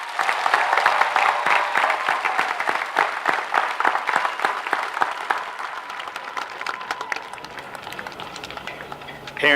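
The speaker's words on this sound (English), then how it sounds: "Let's give them all one more round of applause." Applause from the crowd at a high school graduation ceremony, dense clapping at first that gradually thins into scattered individual claps as it fades toward the end.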